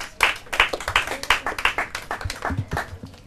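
Applause for contestants at a Portuguese-language competition final, a handful of people clapping in distinct, fairly rhythmic sharp claps close by, steady for about three seconds.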